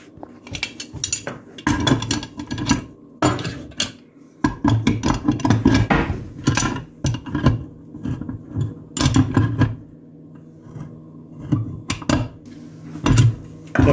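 Metal parts of a single-handle faucet mixer being screwed and fitted back together after oiling, giving irregular scraping, clinking and rasping bursts with short pauses in between.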